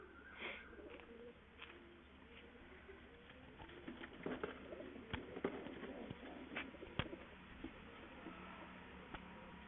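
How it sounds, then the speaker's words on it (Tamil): Regan pigeons coo softly in a loft, low murmuring calls mixed with wing flutters and scattered taps, quiet and close. "இது ரீகன் புறாங்க."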